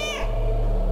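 A cat meows once, short and rising, in the game Stray, followed by a low sustained rumbling tone.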